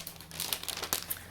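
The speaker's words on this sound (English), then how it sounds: "Sorry for the crinkling." Plastic packaging crinkles and crackles close up in a quick burst of sharp, rustling pops, fairly quiet and without any voices over it.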